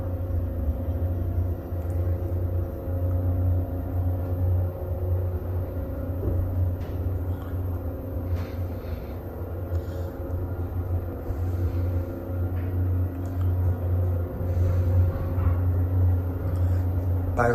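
A recently repaired residential home elevator in a private house rises steadily, giving a constant low motor hum and rumble with faint mechanical ticks, close and continuous for the whole ride, with no talking.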